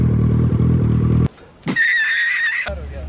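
A Royal Enfield Bullet motorcycle fitted with an Akrapovič exhaust gives a loud, deep, throbbing engine run. It cuts to near silence, a short high-pitched tone follows, then the engine burbles back in at the end.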